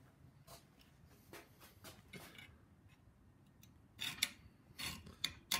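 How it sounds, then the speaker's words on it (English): A hacksaw cutting through a rubber O-ring on push strokes, producing faint, separate scraping rasps that grow louder and sharper toward the end. "seat our blade so that we cut only on the push stroke"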